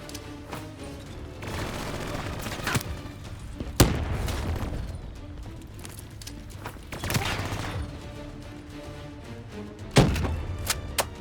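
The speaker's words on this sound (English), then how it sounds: "Toss a frag in there." A frag grenade going off in Call of Duty: Black Ops 3, among several heavy booms and thuds over gunfire and combat noise, with sharp blasts standing out clearly.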